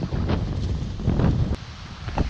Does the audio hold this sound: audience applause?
no